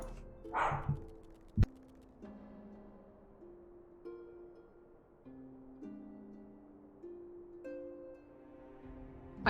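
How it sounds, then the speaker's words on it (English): A dog gives one short bark near the start, then falls quiet while soft sustained musical tones carry on at a low, steady level. "Barking at the backyard, even though the dog is behind me."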